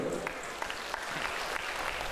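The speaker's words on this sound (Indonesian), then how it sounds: "Oke, tepuk tangan boleh?" A crowd claps steadily, a dense patter of hands that fills the room, with a few voices faintly underneath.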